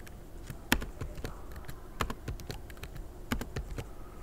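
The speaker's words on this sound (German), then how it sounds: "dass ich halt mit meiner Tastatur versuche," Someone types on a computer keyboard to recreate a table, producing irregular, close-up clicks and taps with occasional louder keystrokes over a quiet room, with no talk.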